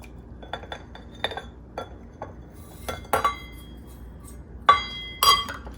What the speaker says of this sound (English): And get that all mixed together until it melts all together